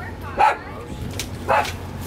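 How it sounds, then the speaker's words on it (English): A small puppy outdoors on Kelleys Island gives two short, sharp yips about a second apart, moderately close and clear over quiet background noise. "Look at that little puppy."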